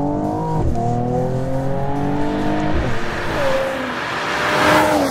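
A high-performance car engine revving hard toward the red line, its pitch climbing through rising tones, then shifting gear and climbing again, loud and close with no voices.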